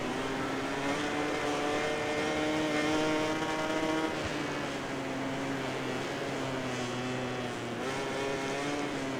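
Motorcycles racing in a video game: a continuous high engine whine holds steady and loud, shifting slightly in pitch as the bikes run together.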